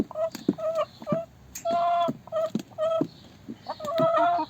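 Repeated harsh, harmonic bird calls burst out in short bouts with brief gaps, loud and close, like an agitated rooster squawking and clucking.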